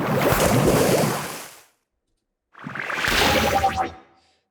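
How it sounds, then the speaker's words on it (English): Water spell impact effect layer built from whooshing water and bubbles: two separate loud watery rushes with a short silent gap, the second one carrying bubbly, gurgling detail, with no voices. "Our basic layer with some water whooshing, some bubbles."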